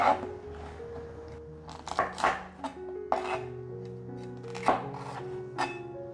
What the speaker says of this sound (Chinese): 买回来也是把种子和膜去掉，一样也是切成片状，斜切。